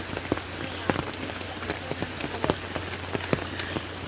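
Rain patters steadily on a surface on the way to a waterfall, with sharp close drops tapping irregularly over a dense wash of rainfall.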